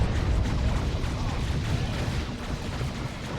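Reaper Barrage artillery strikes from a 3v3 Dawn of War 2 match land as a dense, loud rumble of overlapping booms and blasts, sustained for a few seconds with battle noise and no talk.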